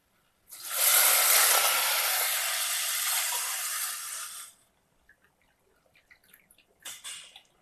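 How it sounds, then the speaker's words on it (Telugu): Water poured from a glass into a pot of sugar for gulab jamun syrup: a loud, close splashing pour lasting about four seconds, then quiet clinks and a short second splash. "ఇప్పుడు ఈ చక్కెర అందులో పోసుకొని నీళ్లు కూడా నేను 2 గ్లాస్కి కొంచెం తక్కువ,"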